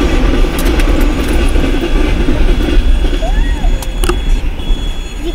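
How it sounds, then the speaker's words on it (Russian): A train rumbles steadily past a railway crossing in the Russian countryside, close and loud, with a constant roar, wheel clatter and a brief squeal, while people talk nearby. "Вот еще один поезд пришлось ждать."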